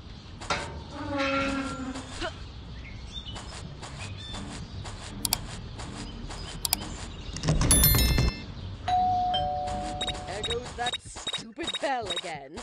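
A doorbell chimes inside the Scary Teacher 3D game, a few bright ding-dong tones rising above busy in-game effects and music, with a louder burst of noise midway and talk over parts of it.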